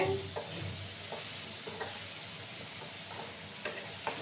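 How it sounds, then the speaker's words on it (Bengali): Spice paste for a pumpkin and papad curry frying steadily in a pan, a soft continuous sizzle broken by a few brief scraping stirs, close by with no talking. "এবার দেখো আমি এই যে মশলা পেস্টটা দিয়ে দিচ্ছি। দিয়ে এবার ভালো করে কষিয়ে নিতে হবে।"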